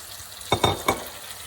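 Sausage and broccoli sizzle in a pan as broth goes in, a few quick stirring scrapes and splashes rising over a soft, steady frying hiss, close by and without talk.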